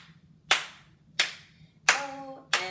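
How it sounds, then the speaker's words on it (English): Children and parents at a parent-child gym class clap their hands in four sharp, close, unevenly spaced claps, with a faint hum between them. "let's clap those hands"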